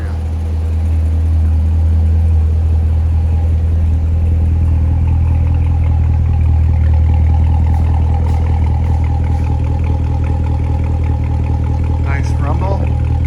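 A 2019 Chevrolet Corvette Z06 2LZ rumbles steadily at close range, a deep, continuous low drone holding level throughout with faint higher-pitched sounds drifting over it.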